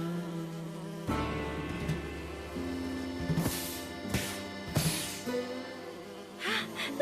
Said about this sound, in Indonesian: Hah, lebah kilat.